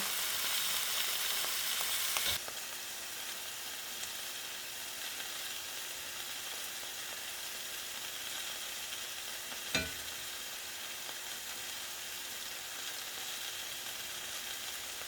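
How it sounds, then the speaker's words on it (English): A steak sizzles and fries steadily in a hot pan while it is basted with a butter, garlic and dried parsley mix, the fat hissing loudly at first, then a softer constant sizzle with an occasional clatter. "I'm going to go ahead and start to baste it with this butter and garlic and dried parsley mix here."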